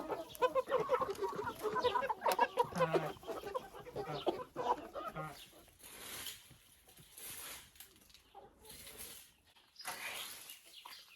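Chickens being fed cluck busily up close, with a dense run of overlapping clucks early on, then quieter scratching and rustling noises broken by sparser calls.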